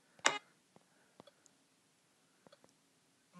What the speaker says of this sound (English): So you just keep clicking.